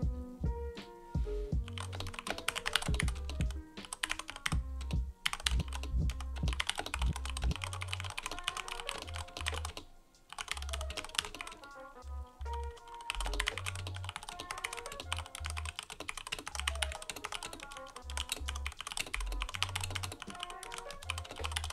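Rapid, steady keystrokes on a computer keyboard during a typing test recorded with a Rode PodMic, continuing for about twenty seconds under fairly loud music.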